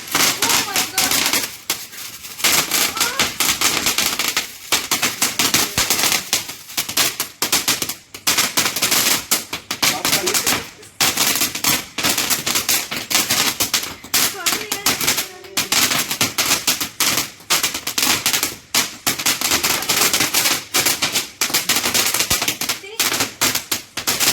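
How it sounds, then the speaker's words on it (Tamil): Lollipop firecrackers burst in a rapid, continuous crackling barrage, loud and close, running for a long stretch with voices mixed in. "இப்போ வந்து நம்ம லாலிபாப் வந்து வெடிக்க போறோம்"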